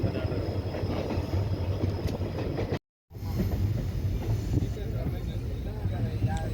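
A train on the Kollam–Tenkasi line running through green countryside, a steady close rumble of wheels and carriage noise with faint clattering, broken by a brief silent gap.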